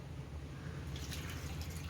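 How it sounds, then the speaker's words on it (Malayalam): Water poured into a Kerala-style mango egg curry masala mix with turmeric and salt, a steady low trickling pour heard close and continuous with no talk. "ആവശ്യത്തിന് വെള്ളം ഒഴിക്കുക"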